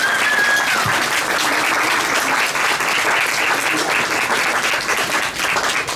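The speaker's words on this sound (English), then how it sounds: "Another round of applause, please." A lecture audience in Salt Lake City gives a sustained round of applause for an author, loud, dense and continuous clapping from a full room.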